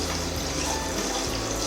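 Whole spices crackling and popping in hot oil for homemade lime pickle, a dense, steady sizzle with rapid tiny pops that stays loud and close throughout.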